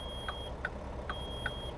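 Low brake pressure warning in a truck simulator game: a repeating electronic beep, four short pulses at an even rhythm over a steady low engine rumble, with a thin continuous tone sounding alongside.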